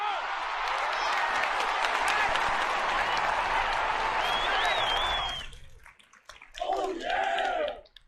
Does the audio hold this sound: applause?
yes